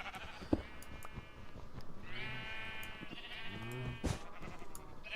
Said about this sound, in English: the sheep are getting in my way